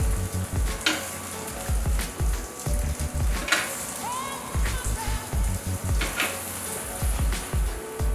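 Lamb chops sizzle loudly in a hot pan on the grill, a steady crackling fry with bursts of spitting fat and a few clinks of cookware, close and continuous throughout.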